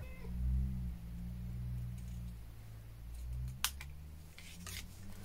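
Scissors cutting paper for a handmade scrapbooking card: a few quiet, crisp snips late in the clip over a steady low room hum, with no talk.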